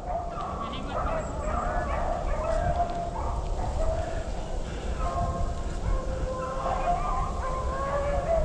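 A pack of rabbit-hunting dogs from a kennel howls and bays continuously in swampy country, overlapping yips and drawn-out howls at moderate distance over a constant noisy background.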